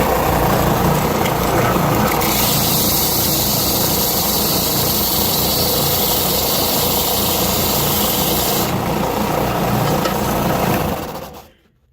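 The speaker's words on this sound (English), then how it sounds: "And so the bandsaw works pretty well." A bandsaw cutting small pieces of wood while making knives in a workshop runs as a loud, steady mechanical whine and rumble for about eleven seconds, with the cut's tone shifting midway before the noise quickly drops away at the end.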